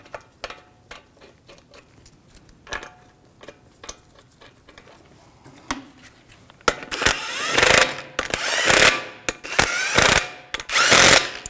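Wheel lug bolts on a 2001-2009 Volvo S60 being tightened: scattered close metallic clicks at first, then loud rapid ratchet wrench buzzes in several bursts.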